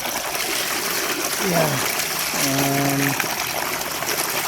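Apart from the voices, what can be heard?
water pumped out by solar submersible DC pump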